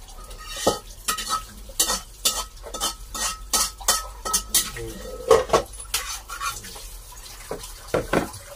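Dishes being washed by hand in Lopez, Quezon: pots and cutlery clink and knock in a steady run of sharp, close knocks, with a faint trickle of running water behind and no voices.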